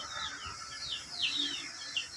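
Faint calls of chickens, including Rhode Island Reds, and ducks chirp intermittently over a quiet outdoor background, a few short rising tweets scattered across the moment.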